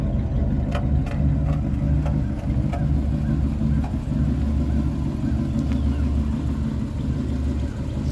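A 1965 Chevrolet Impala engine with dual exhaust idles close by with a steady low rumble and throaty exhaust burble, running evenly without revving.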